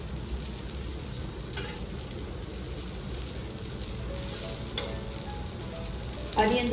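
Corn tikki frying in a pan, a steady soft sizzle running throughout, with a brief louder clatter near the end.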